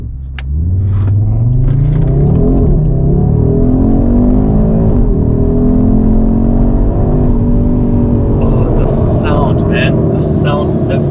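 A 2025 Audi RS3 five-cylinder engine swells from a low rumble into a loud, climbing rev under hard acceleration, heard from inside the car, with someone speaking briefly toward the end.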